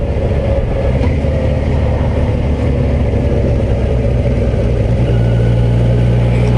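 The four-cylinder engine of a 2021 Kawasaki Versys 1000 SE Grand Tourer motorcycle runs with a steady, smooth drone, its pitch stepping up to a firmer, louder hum near the end.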